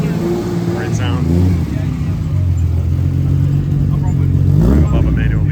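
Ferrari 412 V12 pulling out of a cars and coffee car show, engine note rising and falling close by, with someone talking over it and a louder rev near the end.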